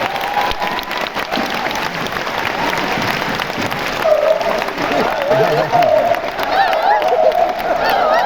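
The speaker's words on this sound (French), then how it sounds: "On peut l'applaudir s'il vous plaît." A cinema audience at the Grand Rex claps steadily with some cheering mixed in, while a voice talks over the applause.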